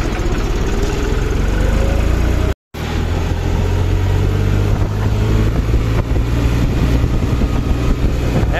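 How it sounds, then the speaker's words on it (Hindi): A John Deere tractor engine runs loud and close on a road, a steady diesel drone with a brief rise in revs, interrupted by a short dropout, no talk. "इसको बका के देखता हूँ ट्रैक्टर।"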